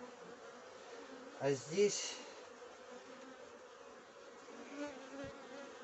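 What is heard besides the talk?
bees buzzing at a beehive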